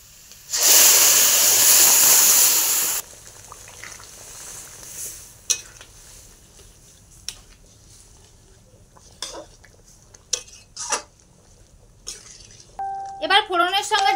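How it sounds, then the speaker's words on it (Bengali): Lentils hit hot spice tempering in a pan with a loud burst of sizzling that quickly dies down, followed by scattered scraping and clinking as a spoon stirs the dal. "এবার ফোড়নের সঙ্গে ডালটাকে একটু ভালো করে ঘেটে নিতে হবে।"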